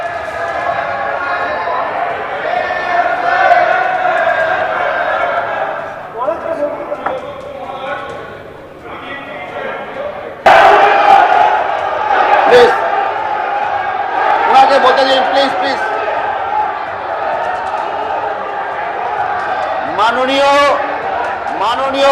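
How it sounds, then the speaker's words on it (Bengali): BJP legislators in a state assembly chanting slogans against Humayun Kabir, a loud crowd of raised voices rising and falling in the chamber, with a sharp knock partway through and continuous talk mixed in. "বিজেপি বিধায়করা হুমায়ুন কবিরের বিরুদ্ধে স্লোগান দেন"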